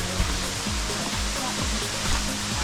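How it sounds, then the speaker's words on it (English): A waterfall at Hanging Rock State Park rushes in a steady broadband hiss and roar, continuous and fairly close, with a few faint low thumps beneath. "let's go see this waterfall"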